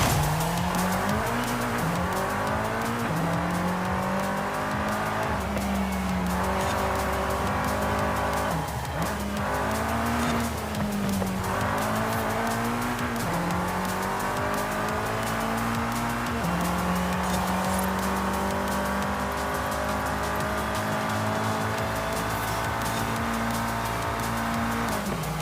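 A Mitsubishi Lancer Evo 6 races up a Mexican mountain touge in Forza Horizon 5, its engine revving and shifting continuously with rising and falling pitch, tires squealing through corners, loud and close throughout.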